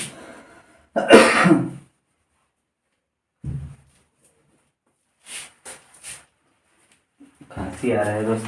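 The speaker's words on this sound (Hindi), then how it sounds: "खांसी आ रहा है दोस्तों" A man coughs and clears his throat in a quiet room, a few short harsh bursts separated by silence, with faint rustles and a short stretch of speech.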